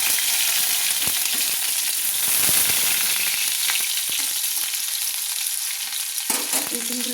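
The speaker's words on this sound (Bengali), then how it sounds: "আমি রসুনগুলো দিয়ে দিচ্ছি গরম তেলের মধ্যে, ভেজে নিচ্ছি, লাল লাল করে ভেজে নিচ্ছি।" Chopped garlic fries in hot oil until reddish, giving a steady, close sizzle with occasional soft stirring noises and no talking.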